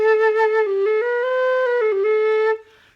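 A single breathy quena flute plays a short sequence of clear, bright notes, stepping up and down before fading out after a couple of seconds.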